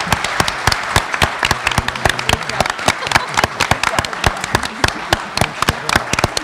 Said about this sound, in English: Let's give our candidates a big round of applause for coming out this evening.